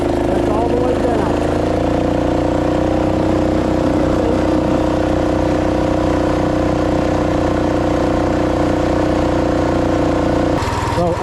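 A 2WD Rokon Ranger off-road motorbike engine held at full throttle in third gear, a loud, steady, droning roar with a constant pitch that drops off abruptly at the very end.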